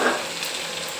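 Vegetables for noodles sizzle and hiss while being stir-fried and mixed in a pan, a short, soft burst of steady frying.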